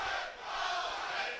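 A crowd roars continuously at a kickboxing title fight between Jose Rodriguez and Rob Padilla, with a dense, somewhat distant cheer that dips briefly and then swells again.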